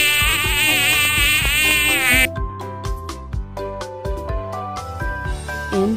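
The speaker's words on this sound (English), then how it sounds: "Mosquito." A mosquito's buzz is heard, a loud, close, high whine that lasts about two seconds before cutting off, followed by tuneful music with no speech.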